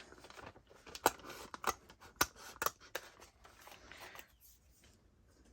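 Scissors snipping through journal cover material in a 1980s memory-keeping junk journal, several sharp close cuts in an uneven rhythm, then quieter rustling.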